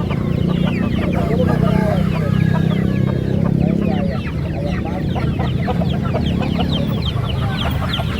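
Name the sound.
Bangkok chicken chicks clucking at a market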